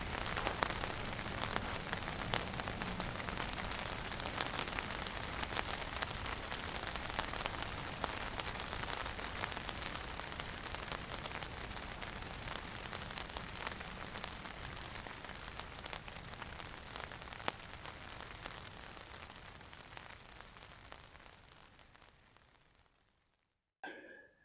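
Overnight rain falls steadily on a hammock camp, a dense, even patter on the tarp and leaves that holds constant for the whole stretch before cutting off abruptly at the end.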